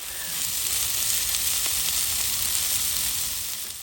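Steak searing on a Blackstone griddle for pesto goat cheese sandwiches, a loud, close, steady hiss of sizzling fat that holds evenly for a few seconds with no voices.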